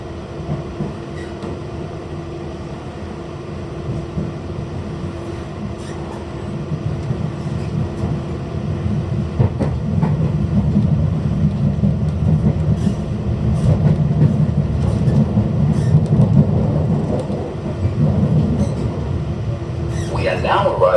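Steady rumble of a commuter train on the rail line into Parnell station, rising and growing louder midway as it runs in, with faint clatter and no talk over it.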